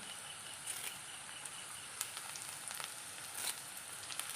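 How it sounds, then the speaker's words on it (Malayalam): Curry leaves dropped into hot oil for a Kerala fish curry, giving a faint, steady sizzle with scattered sharper crackles and pops. "നമുക്ക് കറിവേപ്പില ഇട്ട് കൊടുക്കാം."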